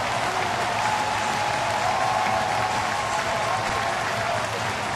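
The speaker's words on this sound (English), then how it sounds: "Look at the crowd now, Greg." Crowd at a Cubs at Pirates baseball game in Pittsburgh cheers and applauds steadily after a game-tying moment, a loud continuous roar of clapping and shouting filling the stadium.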